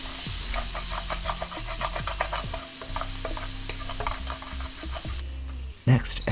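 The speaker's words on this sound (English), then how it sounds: "Cook over high heat until spam takes on some color." Spam and canned green chili sizzle steadily over high heat in a pan, with repeated scraping and stirring strokes, close up and without talk.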